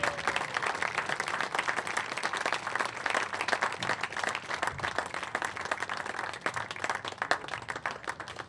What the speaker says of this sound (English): Give me another round of applause for our hometown hero, Bill Gates.